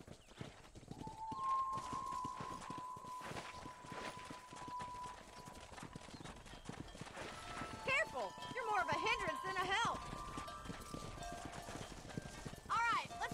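Horse hooves clip-clop at a walking pace in Red Dead Redemption during cattle herding, a steady rhythmic clopping under a voice, with a brief whinny and some musical tones later.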